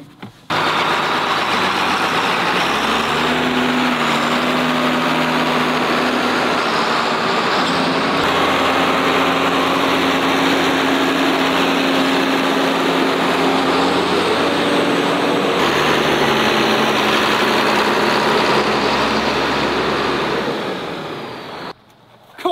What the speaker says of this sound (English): here's a big old blower to clean it all off